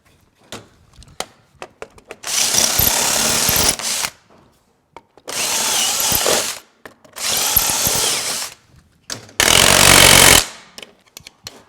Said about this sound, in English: Gonna clean that off with the chop saw